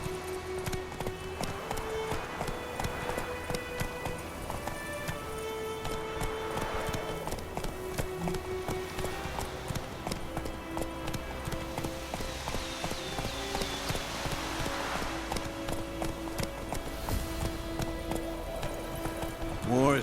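Hooves clip-clop in a fast gallop from a horse in The Witcher 3 video game, a steady rhythmic pounding that runs throughout under game music and characters talking.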